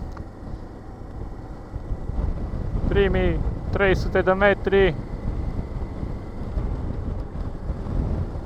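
Wind buffets the microphone while riding a Honda TransALP 650 motorcycle along a road through open fields, a steady low roar with engine rumble beneath, and a voice speaking briefly midway.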